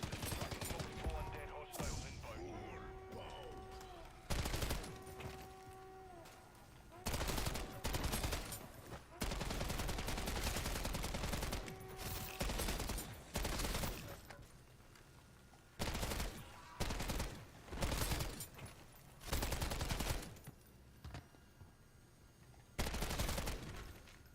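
High-capacity machine gun firing in MW3 Zombies: long rapid sustained bursts repeat throughout, with short pauses between them and occasional other game sounds.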